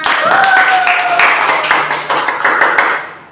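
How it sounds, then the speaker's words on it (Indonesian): Classroom students clapping their hands together during a microteaching lesson on viruses, a short burst of applause mixed with chatter and a brief tonal sound near the start. "Beri tepuk tangan untuk kita semua."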